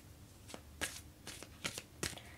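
Tarot cards shuffled by hand in several quick, crisp bursts, each a short papery riffle close by, with small pauses in between and no voices.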